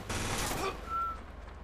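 Quick burst of gunfire in the Watch Dogs video game, a short rattling volley that cuts off, leaving a quiet low hum.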